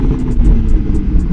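A 2025 BMW G80 M3 engine on its factory exhaust idles, a loud, low, steady rumble with a slight pulsing texture, heard close and alone.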